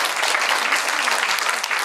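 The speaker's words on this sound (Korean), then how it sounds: "박수 한번 부탁드립니다." Sustained audience applause at a startup hope concert session in Korea, a dense, steady wash of many clapping hands at even loudness, with no talk over it.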